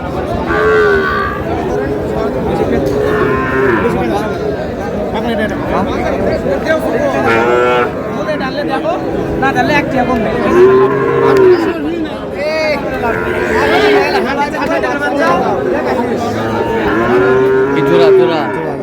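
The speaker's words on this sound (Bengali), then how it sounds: "শাহিওয়ালের ষাঁড়" A Sahiwal bull moos loudly and repeatedly at a cattle sale in Mymensingh, Bangladesh, long low calls rising over a busy crowd of voices chattering close by.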